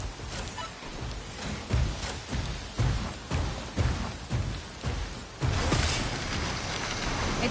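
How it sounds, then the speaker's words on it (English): Rain falling in the video game SYNDUALITY Echo of Ada, a steady broadband hiss punctuated by repeated low thumps and mechanical clanks, growing denser and louder in the final seconds. "It's raining."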